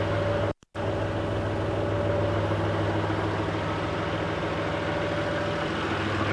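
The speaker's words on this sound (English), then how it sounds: "I'll try and pull the truck forward." A truck engine idling with a steady, loud low rumble and a constant hum, broken once by a very short cut near the start.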